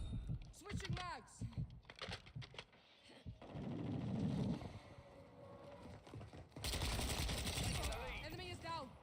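Rapid bursts of video game gunfire crackle through a hectic firefight, with dense volleys at the start, a steadier rumbling stretch, then heavy sustained shooting near the end, mixed with shouted voices.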